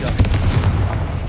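The Confringo spell cast in Hogwarts Legacy, a dense booming blast with rumbling, crackling impacts. It is loud and close and lasts about a second.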